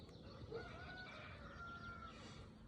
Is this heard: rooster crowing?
yes